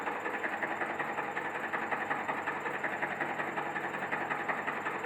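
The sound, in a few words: medium-voltage circuit breaker motor charging springs during CIBANO 500 test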